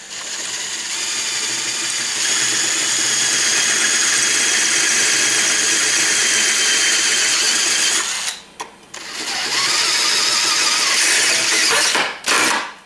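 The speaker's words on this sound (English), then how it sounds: "I'm going to take a little bit bigger bit and make those holes" A drill with a larger bit bores holes through the metal cover of a Kawasaki KLT 200C, a steady whining grind running close and loud for about eight seconds, breaking briefly, then resuming with another short stop near the end.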